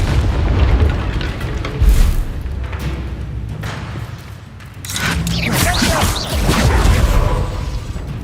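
Bombarda and Confringo spell blasts in the video game Hogwarts Legacy, heavy booming explosions with rumbling debris and whooshes, loud and close, following one another over several seconds, with a player calling out the spells.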